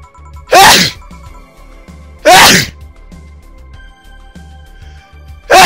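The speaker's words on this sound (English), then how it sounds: "Incoming sneeze." Three loud, sudden sneezes close to the microphone, spaced a couple of seconds apart, over a quieter background of music.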